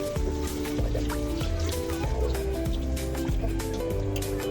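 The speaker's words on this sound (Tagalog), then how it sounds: "Tapos ibuhos na natin ang 1 litrong tubig." Water from a one-liter measure poured into a pot of chicken tinola with sliced green papaya, a steady liquid trickle with drips and splashes running throughout, close and moderately loud.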